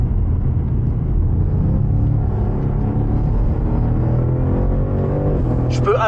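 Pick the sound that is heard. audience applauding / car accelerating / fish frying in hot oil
car accelerating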